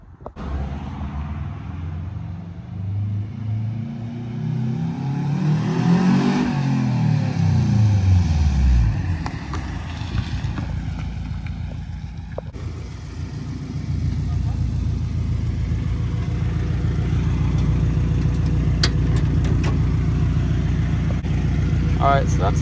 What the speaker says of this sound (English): that's a sound clip of 1320 UEL headers, known as the Subaru headers